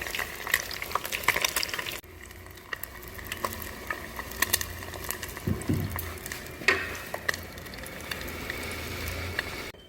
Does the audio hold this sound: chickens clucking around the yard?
no